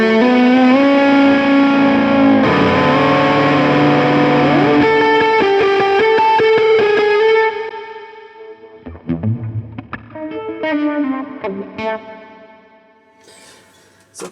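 An electric guitar played through a Hotone Ampero amp-modeler preset rings out in sustained, chorus-tinged chords washed in heavy reverb, loud and alone, then thins into sparser notes and trailing echoes.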